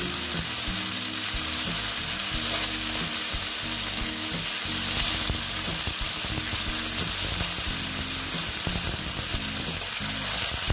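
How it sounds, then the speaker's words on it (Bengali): Eggplant with onion and tomato fries steadily in a hot pan, a continuous loud sizzle with occasional scraping and stirring knocks, no voices. "দিয়ে আবার ভেজে নিচ্ছি, সুন্দর করে আমি ভেজে নেব"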